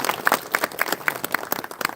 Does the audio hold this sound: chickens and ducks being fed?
no